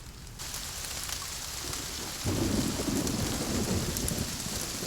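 Steady heavy rain pours outdoors, joined by a deep rolling rumble of thunder that swells midway and keeps up a dense, loud wash with no voices.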